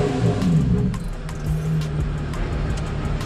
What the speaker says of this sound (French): Maintenant on va démarrer la voiture, la laisser au ralenti